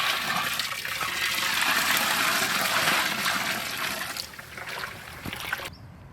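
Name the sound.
water poured into pot of cooked mutton for biryani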